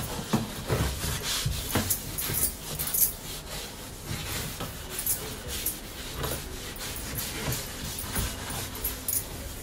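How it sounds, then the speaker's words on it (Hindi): Continuous scrubbing of a washing machine with a handheld scrubber, with close, rough rubbing strokes repeating in an uneven rhythm throughout. "आप चाहें तो इस तरह का भी स्क्रबर जो आता है ले सकते हैं, और इससे बहुत जल्दी साफ हो जाएगा।"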